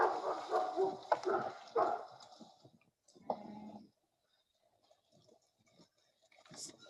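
A guardian dog protecting a herd barks a few times at a distance, faint and intermittent with clicks and quiet gaps between bursts.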